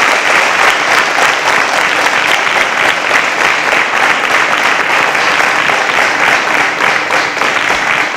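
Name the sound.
audience applause as contestants exit the stage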